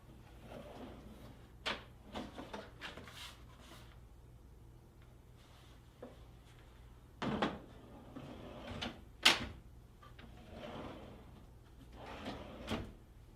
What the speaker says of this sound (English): gently squeeze the orange handles on the locking devices and pull the drawer out of the cabinet